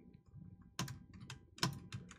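A computer keyboard and mouse click during play of an Attack on Titan fan game, a quick irregular run of sharp, close taps with a few louder strikes and no talking.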